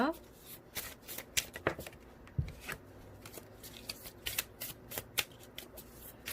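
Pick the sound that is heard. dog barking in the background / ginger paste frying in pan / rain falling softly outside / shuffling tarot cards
shuffling tarot cards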